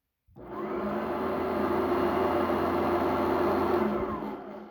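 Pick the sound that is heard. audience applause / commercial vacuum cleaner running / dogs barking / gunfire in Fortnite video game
commercial vacuum cleaner running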